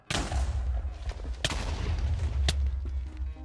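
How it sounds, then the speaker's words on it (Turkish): Loud, dense booming blasts with sharp cracks near 1.5 and 2.5 seconds over a continuous rumbling roar, an explosion effect in Minecraft. "Gördünüz arkadaşlar süper patlama efekti yaratıyor"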